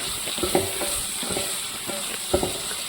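Onion sautés in a pan, giving a steady close sizzle with a few light spatula taps and scrapes at irregular intervals.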